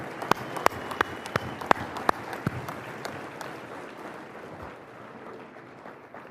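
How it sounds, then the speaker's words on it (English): A modest audience at an evening speaking event applauds members of Congress, giving sparse, distinct individual claps over a softer bed of clapping that slowly dies away, heard without speech. "Let's please give them a round of applause."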